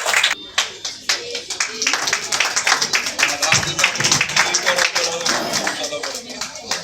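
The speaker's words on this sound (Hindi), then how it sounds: "आप जोर से तालियां होनी चाहिए इनके लिए" An audience claps at an Alliance Club installation ceremony, a brisk, close round of hand claps that swells and holds steady after a few scattered opening claps.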